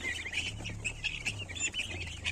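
Guinea fowl chicks peep in a rapid, steady stream of high chirps over a low background hum, close by and fairly soft.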